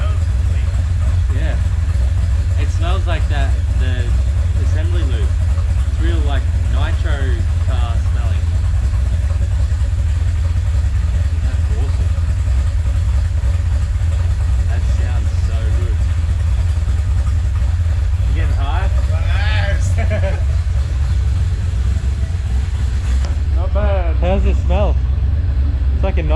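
A cammed Ecotec turbo engine runs in a car for the first time, giving a loud, steady, low rumble that continues throughout while several people talk excitedly close by.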